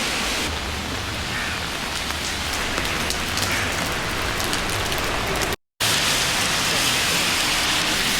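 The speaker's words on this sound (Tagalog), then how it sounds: "Raining." Steady rain falls on a Singapore street, a dense continuous hiss of drops on surfaces with a brief cut near the end before it resumes just as heavily.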